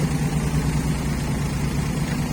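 A Yanmar EF494T tractor engine pushes heavy clay soil, giving a steady, loud low rumble with a constant throbbing drone and no break across the whole stretch.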